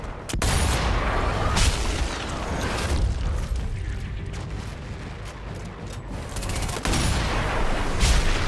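A grenade is shot and explodes in Sniper Elite V2 Remastered, in a derelict town, with deep booming blasts and gunfire-like cracks near the start and end over a steady rumbling background.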